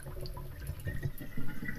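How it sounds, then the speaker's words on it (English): Water draining back in the horror video game Paranormal, a soft low gurgling with faint drips and trickles, steady and fairly quiet throughout. "Oh, it's the water draining back."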